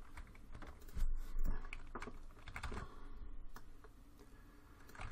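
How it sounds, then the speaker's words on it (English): Arrow keys tapped on a computer keyboard while text is being arranged in a word processor: irregular light clicks and taps at close range, some in quick bursts, over a low room background with no talking. "Again, I'm using the arrow keys,"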